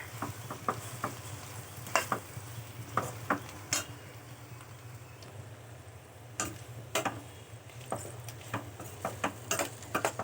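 A spice mixture with cumin and coriander powder is stirred in a pan for an egg podimas, scattered spoon taps and scrapes against the pan over a low steady hum, fairly quiet and close.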